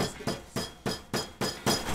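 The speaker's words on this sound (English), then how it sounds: "You can pound them on with a hammer." A hammer taps a lock nut onto the wheel axle of a Weber kettle grill: eight sharp metallic strikes at an even, quick rhythm, close and alone.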